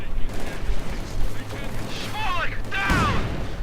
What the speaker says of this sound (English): more mines. bursting up into the conscripts' faces, causing quite some losses